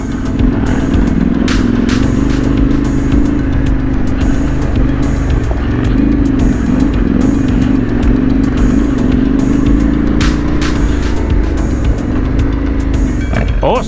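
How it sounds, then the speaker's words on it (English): Adventure motorcycles climbing a hill on a moorland trail ride: loud, continuous engine drone with rising and falling revs and occasional clattering, close and sustained throughout. "Who said ADV bikes can't climb?"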